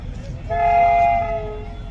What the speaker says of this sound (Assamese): আহি আছে ট্ৰেইন, টয় ট্ৰেইন আহি আছে।